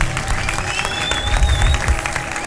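Church congregation applauding in a loud, dense wash of clapping that holds steady throughout, with crowd noise mixed in and a faint high whistle-like tone running through the middle.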